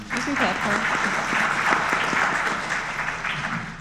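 Brief applause from a panel audience at an academic discussion on preparing future faculty, a moderate patter of clapping mixed with voices and murmured talk throughout.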